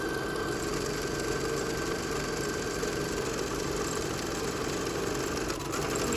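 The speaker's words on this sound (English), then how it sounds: "we're going to be sewing this strap together the whole length of the mask" A sewing machine stitching a face mask strap along the full length of the mask, running in a continuous fast mechanical whir with a steady needle rhythm, close and alone without talking.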